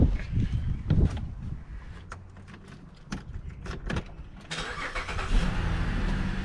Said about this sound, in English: So I'm going to start up the engine.